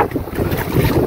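Strong wind gusts buffet a small fishing boat out at sea, a rough, fluttering roar of wind noise over the microphone with faint water wash beneath, close and loud, no talking.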